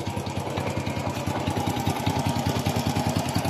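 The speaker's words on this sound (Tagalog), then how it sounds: "pinaghalong tunog ng timing chain at plagitik ng kanyang balbula" A Honda Wave 100 motorcycle engine idling close by, with a rapid, steady ticking and rattle from the valves and the timing chain over the engine's hum.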